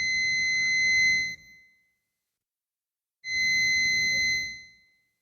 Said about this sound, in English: Shut that annoying beep off.